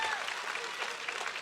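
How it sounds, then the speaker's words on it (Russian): Audience applause after a televised interview with ballet dancer Sergei Polunin, a steady dense clapping that fills the whole short stretch at moderate loudness with no voices over it. "Аплодисменты."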